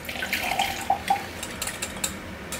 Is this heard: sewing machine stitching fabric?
no